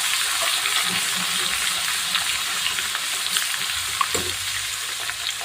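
Finely chopped medium onion and crushed garlic frying in oil in an Indian home kitchen, a steady close sizzle throughout with occasional stirring clinks and scrapes.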